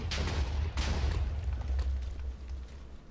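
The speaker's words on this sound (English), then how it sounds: "You're missing all the explosions over here, by the way, Big D." Explosions tear through a Minecraft modded world, a run of loud, deep booms and rumbling blasts stacking one after another before slowly trailing off, with no talking.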